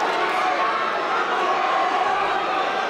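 Crowd at an MMA fight in the Almighty Fighting Championship, a steady dense wash of cheering and chatter held at an even level throughout, with no single voice standing out.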